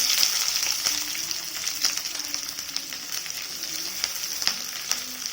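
Sliced onion sizzles steadily in a hot pan for veg kurma, a close, continuous frying hiss broken by occasional stirring clicks.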